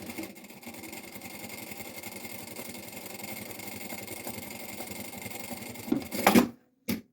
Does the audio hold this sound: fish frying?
no